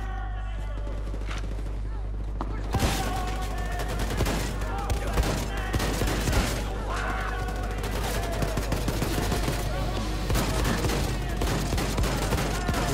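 Gunfire in the video game Wolfenstein II: The New Colossus, loud rapid bursts of automatic shots and scattered single blasts after a quieter opening, under a low steady hum, with some talk mixed in.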